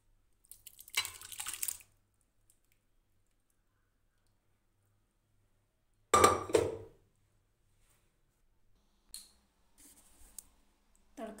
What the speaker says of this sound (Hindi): अब इसे हम एक बाउल में निकालेंगे।